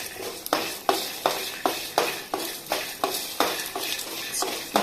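Cumin seeds frying in a pan on a stove while being stirred, a spoon scraping the pan in a regular rhythm of about two strokes per second over a soft sizzle.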